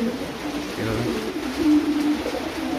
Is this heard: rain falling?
no